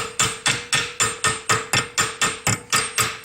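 A hammer striking a washer clamped in a vise to bend it, about a dozen sharp metallic blows in a steady, quick rhythm with a faint ringing tone between hits.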